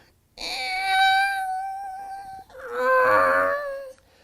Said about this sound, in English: And then we also had a waterphone.